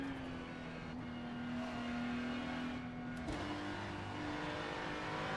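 A racing car engine in the iRacing sim hums at a steady, sustained pitch with a brief gear-shift dip partway through, alone with no talking.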